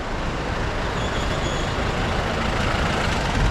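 Heavy trucks and buses idle and rumble in a long traffic jam near Gaurikund on the road toward Kedarnath, a dense, steady low engine drone filling the scene with no voices.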